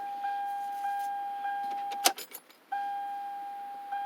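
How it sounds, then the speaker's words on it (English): A car is switched off with its key: a short click and jangle of keys interrupts a steady, repeating electronic chime tone, which then stops and resumes. "I might turn the car off and see if that does anything."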